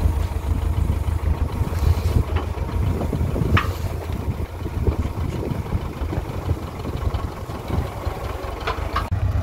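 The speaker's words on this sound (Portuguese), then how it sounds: "Olha aí, pessoal, o trator Valmete ali, ó." A Valmet 885 tractor with a winch, loading sorghum bags onto a trailer, idles steadily at close range with a continuous low engine rumble and a few faint knocks and clanks over it.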